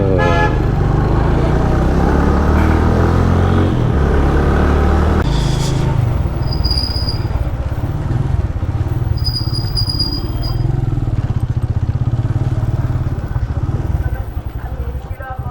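Motorcycle riding through dense, disorderly traffic on the road from Karachi toward Nawabshah, a steady engine and road roar throughout with repeated car horn toots cutting in, while a rider talks over it.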